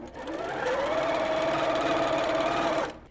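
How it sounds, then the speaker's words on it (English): A sewing machine runs steadily for about three seconds, stitching binding onto a quilt with a 1/4-inch seam allowance, a close, continuous whirring hum with a rhythmic mechanical chatter that stops abruptly at the end. "I'm gonna start sewing right where my finger is"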